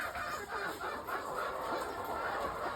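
18-week-old laying hens cluck and murmur continuously in a busy coop, steady and moderately near, with no talking.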